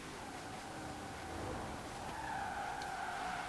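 A 2013 Formula Drift Chevrolet Corvette in Forza Horizon 4 sliding under braking, a sustained tire squeal rising in pitch over a steady engine drone, moderately loud with no speech.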